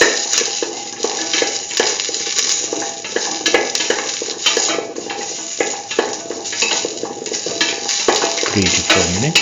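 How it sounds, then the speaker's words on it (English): Beetroot and semolina sautéing in a pan make a steady close sizzle with stirring scrapes and light utensil clatter throughout, with no talk. "Keep on sauteing."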